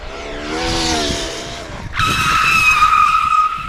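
A Traxxas Maxx Slash RC car at top speed on an 8s setup skids hard with a loud, sustained tire screech, then crashes; a harsh high squeal fills the second half, with the motor whine and scraping close and loud.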